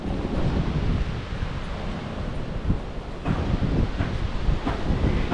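Steady ocean wind gusts across a Philippine beach with a constant rushing roar, dull thumps of buffeting against the microphone and surf blending in underneath, with no voices.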